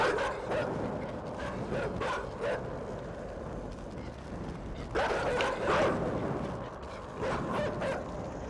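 Repeated dog barks from the video game Inside, clustered yips and woofs in irregular bursts over a dark rumbling backdrop, with a loud flurry in the middle and more barks trailing after.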